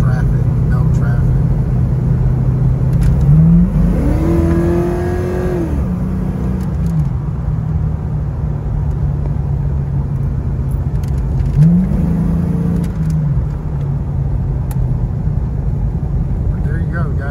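1987 Chevy Monte Carlo SS with a 5.3 LS V8 swap driving gently, a steady engine drone with two smooth revving rises as it moves through gears, heard from inside the car while someone talks over it.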